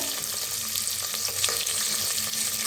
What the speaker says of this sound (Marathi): भाजून ह्याच्यातच टाकूया गाजर